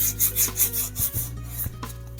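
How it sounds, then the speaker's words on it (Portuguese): A painting surface with filler is sanded by hand in a flower-painting session: about half a dozen close, rhythmic rasping strokes over two seconds, with no speech. "Então eu tenho que lixar assim, ó."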